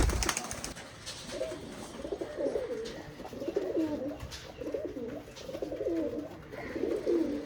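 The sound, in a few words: Oman Teddy pigeons, a breeding pair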